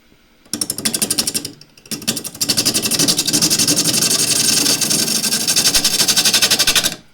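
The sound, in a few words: spindle gouge cutting wood bowl on lathe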